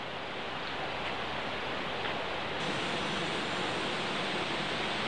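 Water rushes over a dam on the Humber River in Toronto's Raymore Park, a steady, loud, hissing roar that holds unbroken from start to finish with no voices over it.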